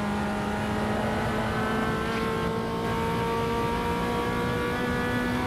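Fiat Uno engine in the Automobilista 2 racing game, held at high revs with a steady, loud, buzzing drone and slight pitch rise, no talk over it.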